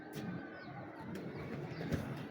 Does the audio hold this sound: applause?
no